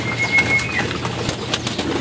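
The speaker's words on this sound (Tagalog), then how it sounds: "Ang dami niyang ibon." Pigeons in a rooftop loft, soft low cooing under a constant rushing background, with a faint high whistle-like tone early on and occasional light knocks nearby.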